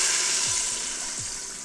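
Beef broth and Worcestershire sauce are poured into an Instant Pot, a steady soft liquid rush that tapers off over a couple of seconds.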